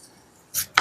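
A kitchen knife cuts through a banana flower stem in two quick, crisp chops heard up close after a moment of near silence.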